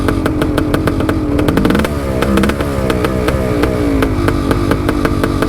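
A motorcycle engine with a freshly cleaned, rebuilt carburetor runs loud and close while warming up. It holds a steady, rapid firing rhythm with a brief rise in revs partway through.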